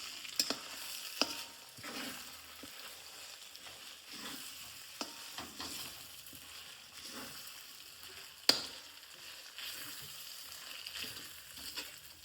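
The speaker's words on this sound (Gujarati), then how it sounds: "ત્યારબાદ આપણે આને મિક્સ કરી દઈએ." Fresh green turmeric mixed with ginger paste being stirred in a pan, soft sizzling frying with scraping spoon strokes and a few sharp clacks against the pan, close and quiet.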